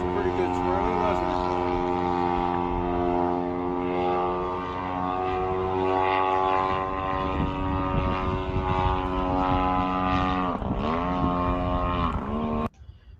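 A radio-controlled model airplane's propeller engine drones steadily and loudly throughout, its pitch wavering slightly, with a brief dip and shift near the end.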